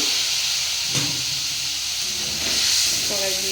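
Katla fish fat frying in a wok, a steady broad hiss of hot oil close by with a few soft bumps and a faint voice near the end.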